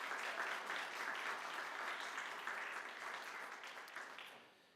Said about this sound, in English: would you please give your faculty and staff a huge round of applause?